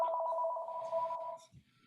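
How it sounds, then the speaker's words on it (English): Telephone bell ringing indoors, a clear two-tone electronic ring lasting over a second and then cutting off, heard alone with no talk over it. "just a second, Jimmy, would you get that, honey, so it doesn't keep ringing?"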